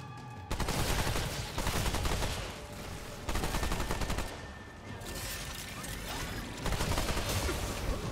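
Sustained automatic turret fire in the video game Remnant 2, loud rattling bursts separated by short pauses, dense and close throughout.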